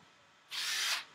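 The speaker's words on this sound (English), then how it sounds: "time to get this drill on" A single short burst of a power drill whirring for about half a second against quiet room noise.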